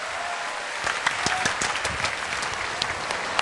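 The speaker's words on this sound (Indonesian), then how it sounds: "Tepuk tangan dong Pak Jokowi." Studio audience applause on an Indonesian talk show, a dense spread of clapping that grows in with a few sharper individual claps standing out, moderately loud and continuing to the end.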